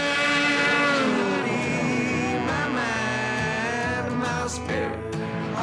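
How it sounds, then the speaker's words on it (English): Snowmobile engines race at a snow event in Alaska, loud high-revving whines that rise and fall in pitch as sleds pass close by, continuous and without talk. "He's never rode a sled before."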